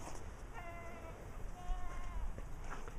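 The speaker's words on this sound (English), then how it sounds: "Now those goats are going up," Goats bleat faintly in the distance, giving two short wavering calls over a hissing outdoor background with no clear talk.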